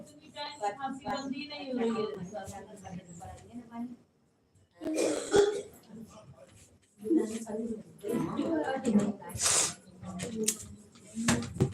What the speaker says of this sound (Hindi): आप खांसी आ रही है